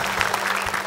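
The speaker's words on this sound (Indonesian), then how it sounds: "Berikan tepuk tangan untuk Guna Dharma." Audience applause at an Indonesian televised campus competition show, a steady burst of clapping from a studio crowd that fills the whole second without pause.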